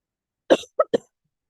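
Three quick, close coughs from one person, a longer first hack followed by two short sharp ones, with silence around them.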